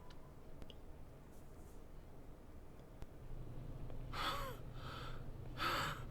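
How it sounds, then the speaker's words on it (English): The player character in the video game Spirit Hunter NG breathes heavily in the night silence, a few loud ragged gasps near the end after a quiet stretch. "My own breathing is loud in the deep silence you can only find at night."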